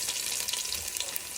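Garlic and ginger go into hot oil for chicken chowmein, producing a brief, even crackling sizzle heard up close with no talking.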